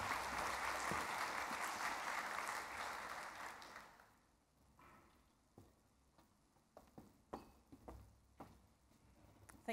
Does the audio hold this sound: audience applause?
yes